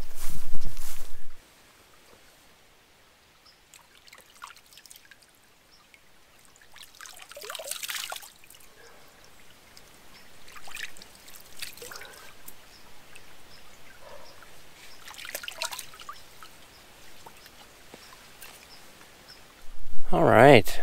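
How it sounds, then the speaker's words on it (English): A small creek trickles softly on a woodland hiking trail, a faint, uneven stream of water heard between louder rustles, with a voice at the start and end. "Nice little trickle of a flow."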